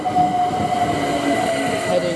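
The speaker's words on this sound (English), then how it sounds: "378 heading to the same as always Clapham Junction from the same as always Stratford." A London Overground class 378 electric train at Imperial Wharf hums close by with steady tonal motor whine and rail rumble.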